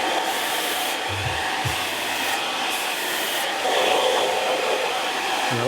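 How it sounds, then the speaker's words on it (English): A hair dryer blowing on high heat while styling a textured pompadour after a low zero fade haircut, a steady close airy roar that holds for the whole stretch with slight shifts in tone. "turn the hairdryer around. And now I'm going to blow dry this up"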